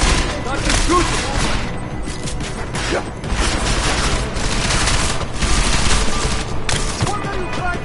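Sustained gunfire from the video game Deus Ex: Mankind Divided, dense rapid shots and impacts filling the whole stretch at high level with no letup.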